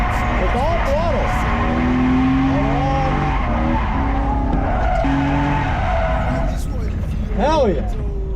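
A Mazda RX-7 FD accelerating through a turn with tires skidding and squealing, engine revving loud and close in repeated wavering bursts, with a voice talking over it.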